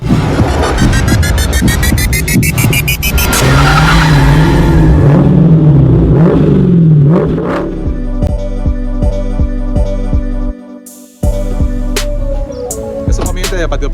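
A Nissan Sentra B13 with a swapped SR20 engine revs loudly and close for several seconds, its pitch rising and falling, before giving way to other steady, layered sounds with brief cut-outs.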